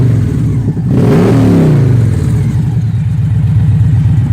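A car engine revs loud and close through Drew Miller Draggin bolt-on mufflers, a deep rumble swelling around the one-second mark and then settling into a throaty, pulsing idle with no backfire.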